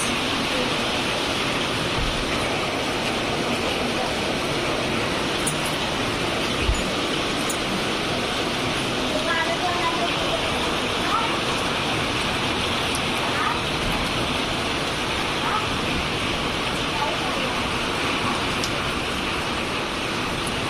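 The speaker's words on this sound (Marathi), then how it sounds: "पावसाचं आगमन झालेलं आहे बघा पाऊस" Rain falling steadily in a village, a dense continuous hiss at a constant level from start to end, with no talk over it.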